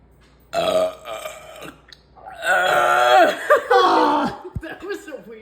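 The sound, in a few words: loud burp after drinking Coke Zero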